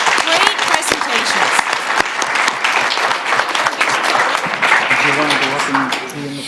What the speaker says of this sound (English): give this team a round of applause